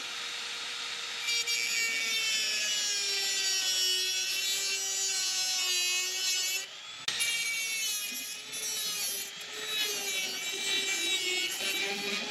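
A Dremel rotary tool grinds steadily on a hinge pin of a 1972 Chevy Monte Carlo, a loud high whine that dips briefly midway and then resumes, running close and without talk.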